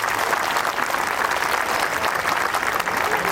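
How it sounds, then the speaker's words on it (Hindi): Audience applause at a school prize distribution at Ramana Public School in Raipur: dense, steady clapping from a large crowd, sustained at an even level from start to finish. "अगर आप सबको अपने बच्चों का कार्यक्रम अच्छा लगा हो तो एक बार उनके लिए आप ताली बजा दो सब।"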